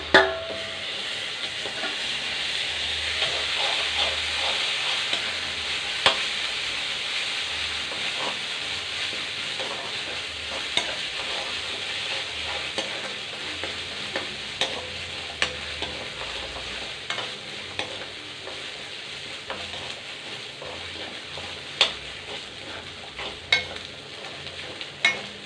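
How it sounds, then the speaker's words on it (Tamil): Onions sautéing with a spoonful of ginger garlic paste in a pan for a country chicken pepper fry, a steady close sizzle and hiss broken by intermittent scraping stirs and clinks, with no talking. "வெங்காயம் நல்லா வதங்கிடுச்சு. கொஞ்சமாக ஒரே ஒரு ஸ்பூன் அளவு இஞ்சி பூண்டு"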